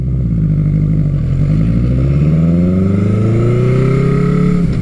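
A Honda CB900 Custom motorcycle left in high range pulls away, its engine droning loudly and steadily as the pitch climbs smoothly under acceleration, with no voices.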